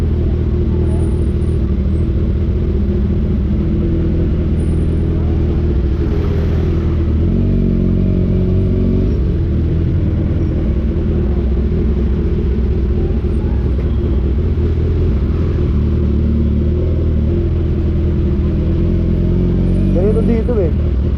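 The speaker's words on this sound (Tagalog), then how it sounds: "Sobrang traffic." Heavy road traffic of cars and motorcycles near SM Santa Rosa, Laguna, gives off a steady, loud rumble of engines that runs continuously with occasional revving and clatter close by.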